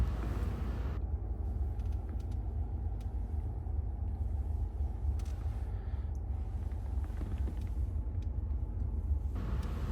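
A 2014 Ford F-150 extended cab 4x4 pickup idles steadily, a continuous low engine rumble holding at an even level throughout with no talk over it.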